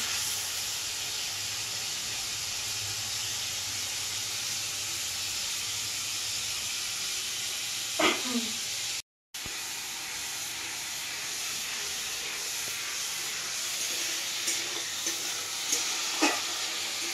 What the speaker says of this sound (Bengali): এই যে পেঁয়াজটা আমার ভাজা হয়ে গেছে, পেঁয়াজ বাটাটা